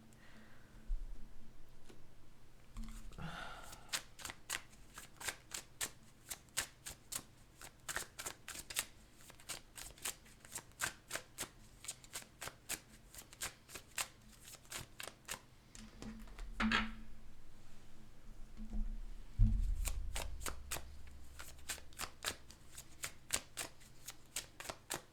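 A deck of tarot cards being shuffled over and over: rapid, crisp riffling bursts that repeat steadily for a long stretch, with a few heavier thumps and handling noises, close and alone.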